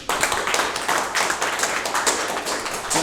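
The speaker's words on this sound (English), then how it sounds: "So in a huge round of applause, we are going to call upon DTM Masood Saeed" Club meeting audience giving a speaker a round of applause as he is called up: dense, continuous clapping from many hands, fairly close and loud throughout.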